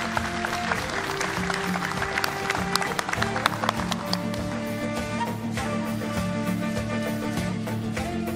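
A festival gala audience applauds steadily as guests are invited to the stage, with loud, dense clapping throughout over a background of music and hall ambience.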